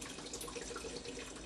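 Tap water runs steadily into a cooking pot to cover meatballs, a soft continuous stream heard alone with no talk.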